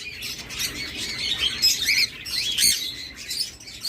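Caged farm birds call from nearby, sharp squawks and chirps coming in quick overlapping bursts over a low hum, with no voices.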